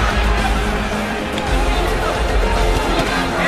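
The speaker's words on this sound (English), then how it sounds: "And the crowd responds" A boxing arena crowd keeps up a steady, loud hubbub and murmur through a fight, rising slightly in places, with a commentator's voice running over it.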